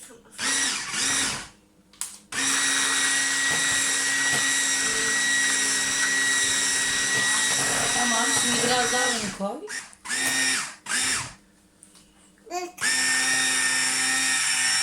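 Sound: electric hand mixer mixing walnut cocoa cake batter

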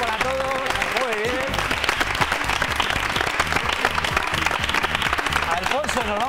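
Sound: studio audience applause

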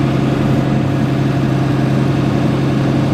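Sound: tractor engine running

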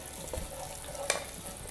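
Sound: minced garlic frying in pan

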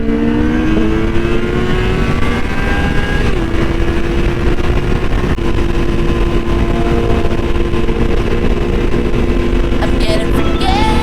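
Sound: motorcycle accelerating, Suzuki Hayabusa

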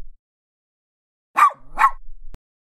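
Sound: dog barking

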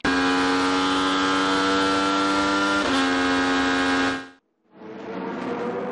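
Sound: IndyCar race cars racing at Road America

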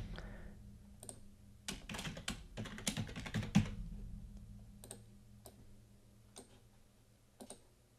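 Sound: typing a password on a computer keyboard

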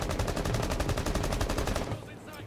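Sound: gunfire shooting through a wall in video game Rainbow Six Siege

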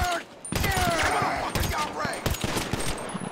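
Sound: enemy gunfire in video game GTA 5 Online

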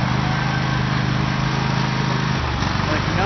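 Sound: tractor engine running after being repaired

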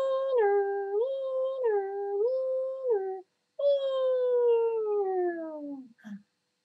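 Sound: child imitating an ambulance siren again

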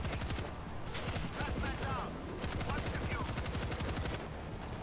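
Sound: machine gun turret firing in World War Z video game

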